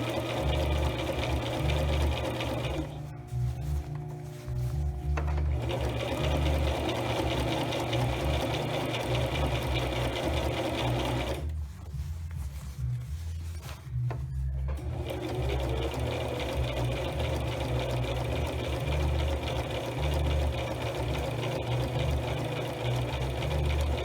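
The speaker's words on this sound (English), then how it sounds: "at the sewing machine I already have my needle already centered and positioned" A sewing machine stitching the hem of a fabric napkin, running loud and close with a steady rapid whir, stopping briefly twice before carrying on.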